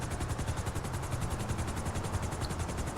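Helicopter in Grand Theft Auto 5, a steady, fast rotor chop pulsing evenly throughout at moderate distance with no voices.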